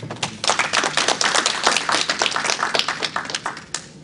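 An audience at a business presentation applauds, a fairly close, loose burst of clapping that swells quickly and tapers off over about four seconds.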